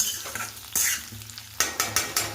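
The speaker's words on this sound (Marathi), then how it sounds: "तर हे व्यवस्थित बारीक गॅसवर परतून घ्यायची, जेणेकरून भेंडी व्यवस्थित परतली गेली पाहिजे" Stuffed okra (bhindi) stir-fried in oil over a low flame, with a soft steady sizzle broken by a run of sharp scraping stirs against the pan, alone and close.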